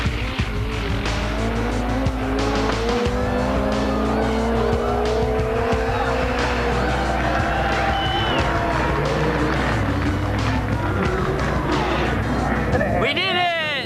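Drag-racing cars, including a green Honda Civic, roar loud and close, with engine pitch climbing through the gears, tyre squeal, and a sharp high screech near the end.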